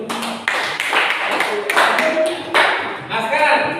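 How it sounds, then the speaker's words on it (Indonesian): Classroom applause during a student group presentation, a dense burst of clapping from many hands lasting the whole stretch, fairly close, with some voices mixed in. "Ya, kita kasih aplaus dulu."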